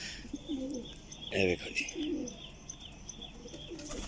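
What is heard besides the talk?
golden pigeon cooing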